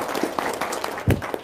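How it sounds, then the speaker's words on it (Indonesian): Audience clapping at a religious charity talk, a brief patter of applause with one louder clap burst near the end, fairly close and even. "Tepuk tangan dong."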